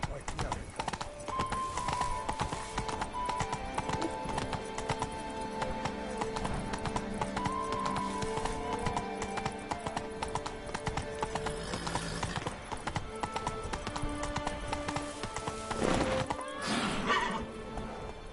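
A horse gallops in the Witcher 3 Wild Hunt game, its hooves clip-clopping in a steady, continuous rhythm throughout, with a whinny near the end and voices talking over it.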